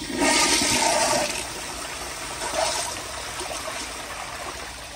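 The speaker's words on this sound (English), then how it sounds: "But here's another flush with the rag." A 1972 Kilgore Argus toilet flushes with a rag in the bowl, a loud close rush of water that fades, surges briefly again and trails off into a trickle.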